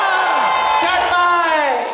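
A crowd at an armored combat tournament at a fan convention, loud whoops and shouted cheers rising and falling in quick bursts, close and energetic over a brief stretch.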